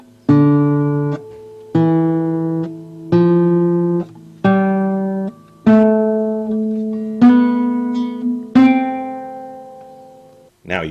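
Recorded guitar notes played back one after another, seven or eight plucked tones each struck sharply and decaying, with a hot microphone adding clipping at the loud attacks; no talking.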